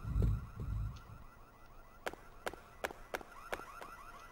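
An alarm in a video game, a series of sharp, evenly spaced electronic beeps after a brief low rumble, fairly close and clear over a quiet background.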